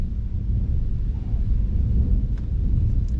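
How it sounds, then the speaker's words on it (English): Thunder rolls through a passing hail storm, heard as a continuous deep rumble with steady rain-like hiss. It is fairly loud and unbroken, and no one speaks. "The flashes of lightning, and this storm is still going by."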